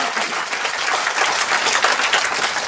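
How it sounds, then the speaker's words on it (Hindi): Audience applause at a DXN business seminar, a dense steady wash of many hands clapping loudly and continuously throughout, with no talk over it. "एक जोरदार ताली आप सभी लोग"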